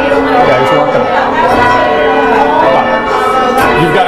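A tower bell in a memorial bell tower rung by hand with a rope, its strikes blending into a dense ringing wash with overlapping tones, loud and close.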